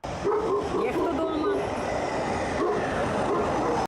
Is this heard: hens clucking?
no